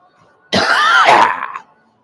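A single deep, raspy cough, close and loud, lasting about a second, with a harsh throat-clearing edge, and nothing but silence before and after.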